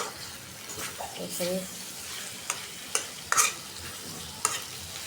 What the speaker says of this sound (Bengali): যেহেতু রুই মাছ দিয়ে রান্না করবো একটু মাখা মাখা ঝোল রাখবো একটু কষাই নিতেছি ভালোভাবে